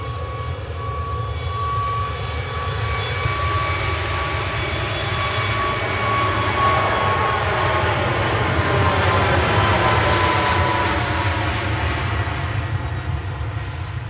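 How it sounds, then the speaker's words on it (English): Ryanair passenger jet at Manchester Airport, a steady loud jet engine roar that swells gradually to a peak around the middle and eases slightly, heard alone without talk. "Ryanair to Zhezhov now, flight"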